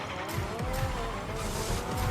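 A car drifting in Rocket League racing gives a continuous loud engine drone with repeated tire squeals and skidding sweeps through the short stretch.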